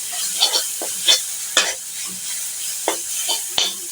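Jute leaves fried in a pan are stirred with a utensil, giving a steady frying sizzle broken by several sharp scraping knocks against the pan at irregular intervals, close and fairly loud.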